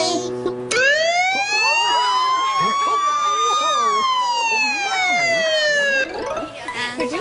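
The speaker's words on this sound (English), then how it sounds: "And here is where you turn on the siren." A fire truck siren on a children's TV show blares close and loud, its wailing tone climbing slowly and then falling, with a brief noise just before it starts and a moment of clutter as it fades.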